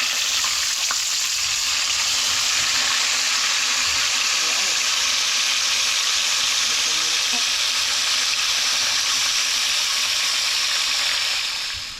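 Food frying in a pan of hot oil, giving a steady, loud, close sizzle that runs unbroken throughout, with faint stirring under it.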